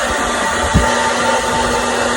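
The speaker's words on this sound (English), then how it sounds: "Use the blow dryer." A hair blow dryer runs steadily at close range after a fade haircut, giving a constant whooshing hum with a faint brief bump partway through and no talking.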